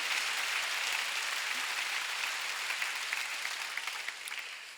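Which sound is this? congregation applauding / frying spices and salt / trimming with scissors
congregation applauding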